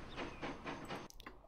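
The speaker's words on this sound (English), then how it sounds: "so that train clears" A train in Transport Fever 2 rolls past with rhythmic clattering, a hissing rumble that fades and breaks off into a few faint clicks.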